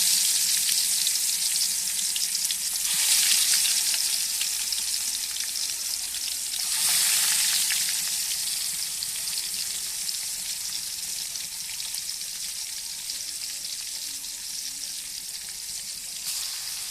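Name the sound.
pangas fish frying in oil on clay stove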